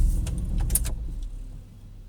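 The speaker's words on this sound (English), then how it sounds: "Windows up." Power windows on a 1999 Porsche Boxster 986 with a 2.5L tiptronic rise with a low motor hum inside the car, opened by a few sharp clicks and light rattles that trail off within two seconds.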